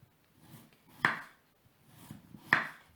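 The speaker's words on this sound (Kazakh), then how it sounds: "Алдымен картопты жұқалап тураймыз." A knife slices potatoes thinly for a French-style baked meat dish, giving two distinct, fairly quiet thuds against a cutting board about a second and a half apart, with soft scraping between them and no talking.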